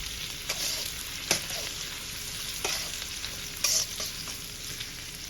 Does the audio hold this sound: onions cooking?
yes